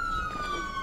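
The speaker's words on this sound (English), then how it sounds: "Cut the fucking sirens, man." Police siren in the video game GTA, a steady high wailing tone heard briefly and fairly close, running through the whole short moment with no voices over it.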